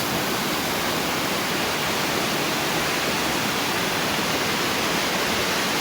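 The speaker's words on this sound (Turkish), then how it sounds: "Kol Deresi'nin şırıltısıyla beraber Karadeniz'e doğru koşuşunu izliyorsunuz" Kol Creek rushing through green woodland near Canikdere waterfall in Tonya, Trabzon, a steady, loud, close broadband water roar with no pauses and no voices.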